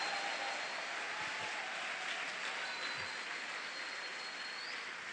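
Steady applause from a church crowd, a dense even patter of clapping that continues at the same level throughout.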